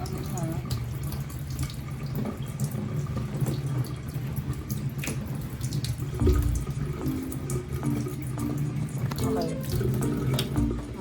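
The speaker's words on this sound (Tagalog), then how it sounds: "And rinse in running water." Tap water runs steadily into a sink as jewelry is rinsed under it, making a close, continuous splashing stream with small shifts in flow and some faint voices in the background.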